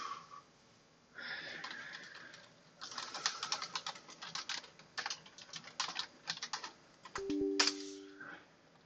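Rapid typing on a computer keyboard with fresh batteries, with bursts of crisp, close key clicks after a brief pause, then a few final taps.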